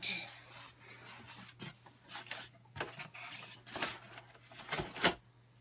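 Styrofoam packaging rubs and squeaks while a Brother HL-L2390DW laser printer is pulled from its box, producing close, irregular scraping and crinkling with a steady low hum underneath.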